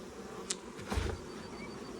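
Honey bees of a dark Carniolan strain buzz around an overloaded nuc hive during a transfer, a soft continuous hum with a few louder passes of individual bees near the microphone.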